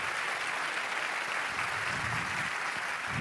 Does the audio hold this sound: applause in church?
yes